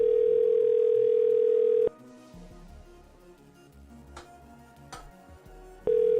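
A telephone call gives a steady, loud tone before going to voicemail; the tone cuts off into a quieter stretch with faint clicks, then returns at the end.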